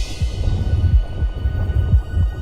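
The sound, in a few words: heartbeat sound effect in Avatar cinema preview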